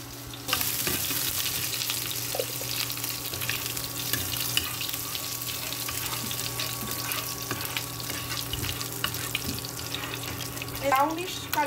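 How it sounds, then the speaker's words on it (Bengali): Fennel seeds heat in a pan, giving a steady, close sizzle with a few light clinks near the end. "এই মৌরিটা গরম হচ্ছে"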